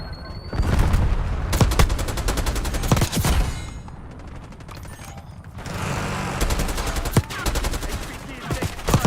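Video game gunfire comes as rapid automatic bursts, loud and rattling, with short pauses and a longer sustained stretch later. Steady battlefield noise sits beneath the shots.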